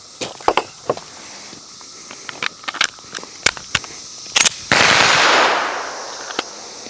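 Shots from an S&W M&P Carry Comp pistol on an outdoor range at 15 yards, a string of sharp, loud reports at uneven intervals with some quick doubles, followed by a sustained burst of broadband noise.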